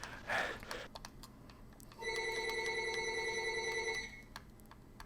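A telephone rings with one sustained electronic bell tone lasting about two seconds, fairly close, amid scattered keyboard typing and clicks in a quiet room.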